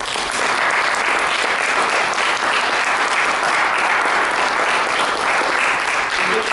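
A steady, loud round of applause from an audience fills the whole stretch, dense clapping with no pauses, following a guided therapy demonstration.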